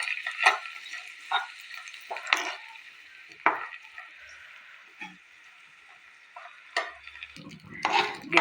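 Sticky bora rice frying in hot ghee in a pan, stirred with scraping strokes at a steady pace over a constant sizzle, close and moderately loud, with no talk.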